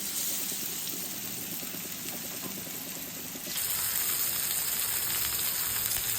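Lemon and masala-coated fish frying in a pan, a dense, continuous sizzle and hiss that holds steady, then turns slightly louder and brighter partway through, close-up with no talking.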